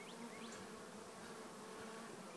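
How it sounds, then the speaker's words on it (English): Honey bees buzzing in an orientation flight around newly placed hives at a bee yard in Comanche Creek, Texas, a steady, soft swarm drone with occasional individual bees whining past close by. "These bees are doing an orientation flight."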